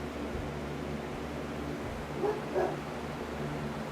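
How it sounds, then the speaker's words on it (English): A dog barks twice in the distance, two short faint yips close together, over the steady hum of a running box fan. "And there go our dog barking."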